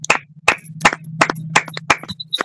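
A congregation at a Saturday prayer service claps loudly in a steady rhythm, about seven sharp, crisp claps ringing out alone over a low sustained hum.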